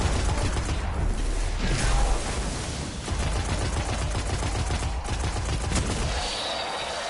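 Rapid gunfire in the video game Destiny, dense bursts of automatic shots layered with explosive cracks, loud and constant throughout, with no talk.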